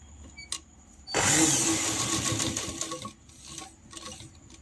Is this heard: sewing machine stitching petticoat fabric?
yes